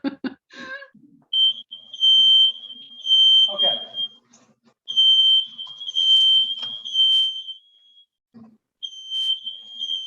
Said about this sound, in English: One thing about cooking with high heat is you set off your fire alarm.